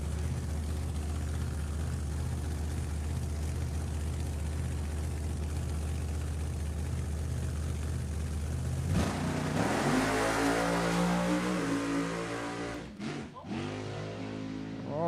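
Nostalgia drag racing Camaro at an NHRA Heritage Series event roaring loudly in a sustained engine drone, then surging as it launches and accelerates hard, with the pitch climbing steeply before the engine note cuts off.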